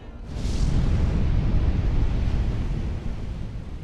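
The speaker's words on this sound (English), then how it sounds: "the first of 4 truly cataclysmic explosions occurred on Krakatau. The volcano erupted" A deep, rumbling volcanic explosion from Krakatau swells up abruptly and holds as a heavy roar before slowly easing off.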